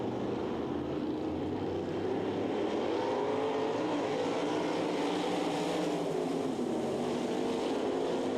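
360 sprint cars race at the Knoxville Nationals, a continuous loud roar of several engines blending into one sustained drone that swells slightly as the pack passes, with no talk.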